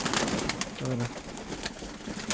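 A single pigeon coos briefly, a low soft hooting burst amid steady background noise and rustling.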